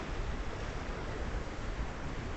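Ocean waves surge against a jetty, a steady, dense wash of surf with rough wind noise and no distinct breaks, loud and continuous with no voices.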